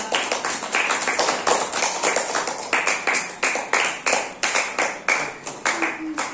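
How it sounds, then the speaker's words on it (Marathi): Second-grade children in a classroom clap their hands together in a quick, uneven rhythm of sharp claps, steady and fairly close, repeated throughout with no pause. "तुम्ही टाळ्या वाजवा"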